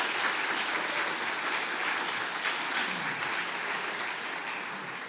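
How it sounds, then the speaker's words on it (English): A large audience applauds at an awards ceremony, dense sustained clapping that holds steady throughout and fades slightly at the end. "I invite us to share a group round of applause for all of this year's awardees"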